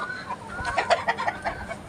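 Chickens cluck on a poultry farm during the rainy season, a cluster of close, overlapping clucks and short calls rising and falling over a steady background hiss.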